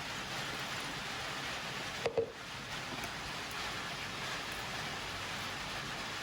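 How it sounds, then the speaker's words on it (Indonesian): Rain falling outside, a steady, even hiss of downpour filling the background with one brief clatter near the middle and no voices. "di sini lagi turun hujan nih, lagi hujan terus, jadi suaranya agak kedengeran hujan"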